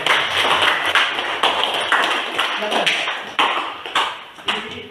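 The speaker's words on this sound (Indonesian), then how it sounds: "sekali lagi kita kasih aplaus" Classroom applause for a student group that has just finished presenting, a sustained patter of many hands clapping at moderate volume, with some louder individual claps standing out.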